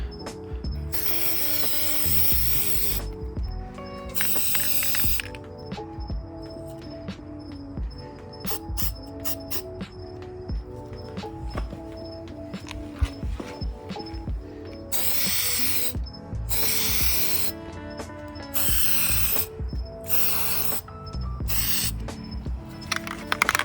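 An aerosol can of Plasti Dip sprays a heavy coat onto car emblems on a Subaru WRX, close-up hissing bursts in several separate runs with quieter pauses and faint clicks between them.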